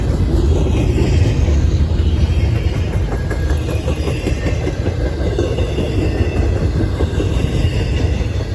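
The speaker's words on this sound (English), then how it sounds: "This train would be NS-24M, a high-priority intermodal train" A Norfolk Southern intermodal freight train rumbles past close by in Northwood, Ohio, loud and continuous, with rhythmic clatter of wheels over rail joints and faint metallic squeals.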